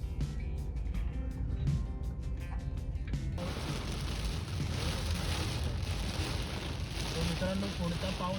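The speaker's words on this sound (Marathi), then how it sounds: "मित्रांनो, पुढचा पाऊस हा किती दाट आहे बघा. रस्ता दिसेनासाच झालाय." Heavy monsoon rain lashes a car on a Konkan ghat road, a dense roar of water and road noise inside the cabin, with a lighter patter and drip sounds at first, then a thick steady downpour while someone talks.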